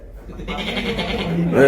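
A man imitates a goat with a wavering, nasal bleat, moderately loud and close, rising into a sharper cry at the end; spoken voices are present around it.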